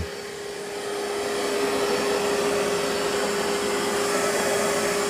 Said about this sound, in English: It's doing a pretty good job vacuuming.